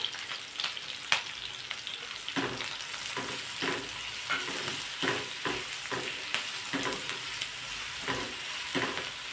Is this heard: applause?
no